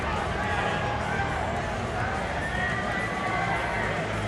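A packed arena crowd at a bare knuckle fight on ice keeps up a steady, dense roar of cheering and shouting for the full stretch, with indistinct voices blended into the din and no clear lull.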